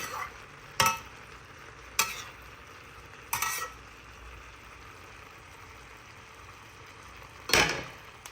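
Ginataang salmon cooking in its own broth in a pan, a steady low sizzle and bubble running throughout, broken by four sharp clinks of a utensil against the pan.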